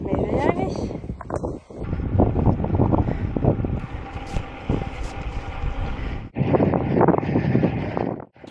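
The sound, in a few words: wind blowing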